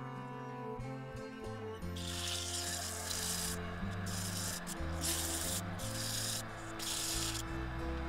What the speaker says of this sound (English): now I'm going to give it a quick sand